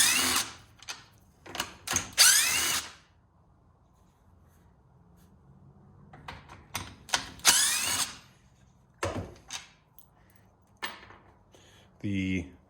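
Power screwdriver backing screws out of a Stihl trimmer that backfires and won't start, several short whirring bursts separated by quiet pauses, close and fairly loud, with someone speaking between them.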